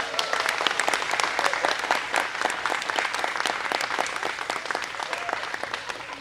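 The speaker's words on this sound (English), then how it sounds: "Please give everyone a round of applause, please." A crowd applauds steadily at a Teacher of the Year finalist announcement, dense clapping sustained throughout without a break.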